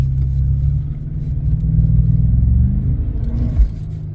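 Audi A8 accelerating at full throttle, a loud close low engine rumble swelling steadily with a vibrating drone underneath, alone with no voices, ending on a brief thump.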